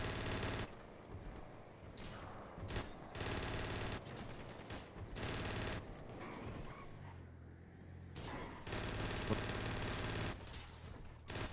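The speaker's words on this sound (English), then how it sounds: "Oh, that's the Uzi." Uzi submachine gun firing in a GTA roleplay video game, with several loud bursts of rapid automatic fire separated by short pauses, each burst alone and up close.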